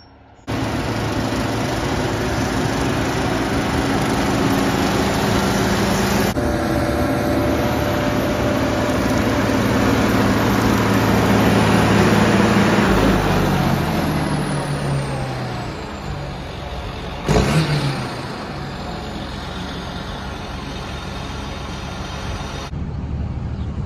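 A John Deere 8230 tractor pulling a 20-foot brush hog through a wheat field, giving a steady, loud engine and cutting drone that swells as the rig passes close, then eases off; no talking.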